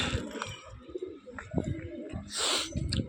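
Pigeons at a pigeon house coo in low, soft bursts close by, with a brief rustle or flutter partway through and faint voices in the background.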